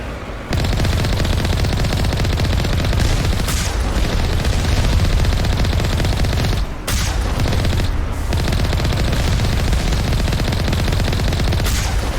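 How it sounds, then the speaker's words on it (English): Alliance heavy turrets in Mass Effect fire loudly and almost nonstop in dense automatic bursts, with a few brief gaps and no voices. "Those were Alliance heavy turrets"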